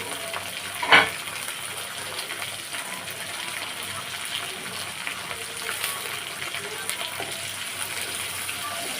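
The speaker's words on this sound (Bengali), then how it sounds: "এবার ডিমগুলোর সঙ্গে পেঁয়াজ মরিচটাকে এভাবে খুব ভালো করে আমি কিছু সময় তেলে ভেজে নিব" Marinated fish roe frying in oil with onion and chili in a pan, a continuous moderate sizzle with one sharp clatter near the start and occasional stirring scrapes.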